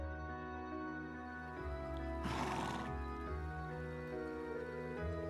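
A horse neighs loudly in the middle of a steady bed of game music and ambience, with clip-clopping hooves around it, in the video game Trails of Cold Steel II.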